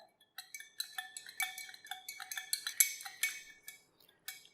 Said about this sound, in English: We're going to mix this up a little bit. So I'm just stirring this a little bit,